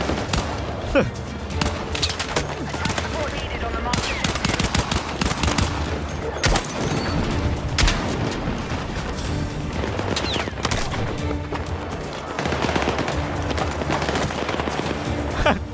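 Gunfire in the video game Battlefield 6, with dense bursts of automatic rifle fire and scattered single shots rattling steadily through the whole stretch, mixed with occasional heavier thuds.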